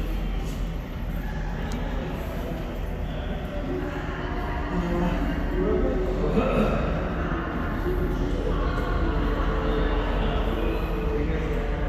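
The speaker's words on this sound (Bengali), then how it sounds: "এই যে এটা হচ্ছে মেট্রো লাইন ওই যে একটা মেট্রো আসছে" A Dubai metro train approaches along an elevated line among tall city buildings, a steady broadband rumble and rail roar building slightly in loudness across the stretch, with no talk over it.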